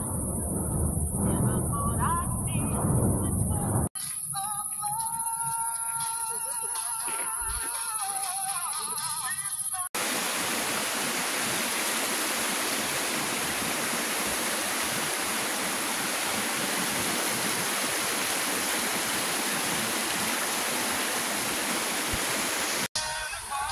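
A mountain stream rushes as steady, loud, broadband water noise, continuous and close, with brief talk and other sounds at the start.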